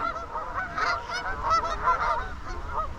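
Canada geese beside the Tardebigge canal locks honk in a busy, overlapping chorus, a steady clamor of many birds calling at once from a short distance.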